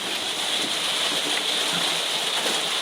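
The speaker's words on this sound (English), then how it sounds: "No, I think it was really heavy rain" Heavy rain pours steadily outside, a constant close hiss of falling drops without gaps or voices.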